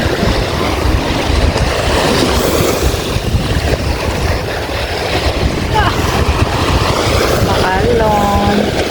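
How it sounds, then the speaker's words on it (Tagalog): Sea waves wash and churn steadily close by at a beach, mixed with wind buffeting the microphone, while people talk and exclaim over the water. "Ang alon."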